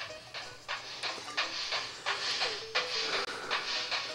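A train in The Legend of Zelda: Spirit Tracks video game chugs along with repeated rhythmic steam-like hissing bursts, steady and fairly loud.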